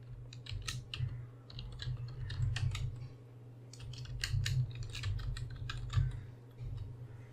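Computer keyboard typing while editing text, quick bursts of light clicky keystrokes in uneven runs with short pauses, close and fairly quiet over a low steady hum.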